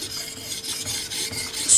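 A steel blade is sharpened on a Belgian coticule whetstone with diluted slurry, giving a continuous close, gritty rasping scrape with gentle pulses between strokes and no talking.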